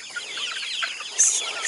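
A flock of backyard chickens clucks and chatters nearby in overlapping, busy calls, with a louder, sharper squawk breaking out near the end.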